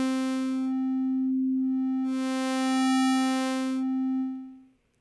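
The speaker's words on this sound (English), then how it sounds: "It starts with one wave, it ends with another wave, and it has many waves in between, and you can morph between those at will." A synthesizer wavetable oscillator holds one steady pitched tone while its timbre morphs from wave to wave, the brightness swelling and thinning in stages before it fades out.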